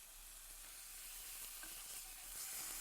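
Beef for carpaccio searing in a hot pan, a steady, close hiss and crackle of sizzling fat with a low background hum, quiet overall and unbroken.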